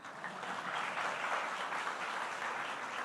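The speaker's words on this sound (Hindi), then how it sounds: "एक ताली बजे तो सब बजा दे रहे हैं।" Sustained audience applause at a Hindi poetry stage event, dense steady clapping from a crowd at an even level throughout, with no voices on top.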